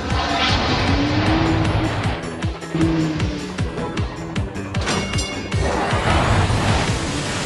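Revving engines of a Thomas & Friends Go Go Thomas racing game, loud and continuous, with rising pitch sweeps and tire-squeal tones layered over a busy game soundtrack throughout.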